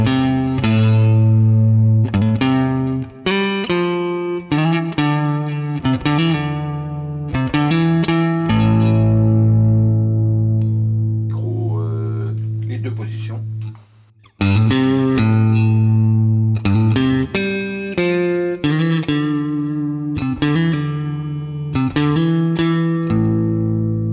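Harley Benton JA-60 electric guitar, Jazzmaster-inspired, played through a clean tone with chorus-like shimmer, strummed chords and single notes ringing loud and close, with a brief sustained passage and pause midway.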